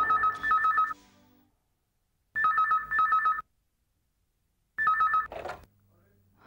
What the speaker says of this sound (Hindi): Hello Manju, Suresh here. मैंने इसलिए फोन किया था